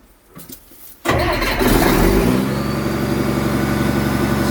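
A Case 4490 tractor, abandoned for years, cranks briefly and then catches, its engine rising to a loud, steady running rumble that holds to the end.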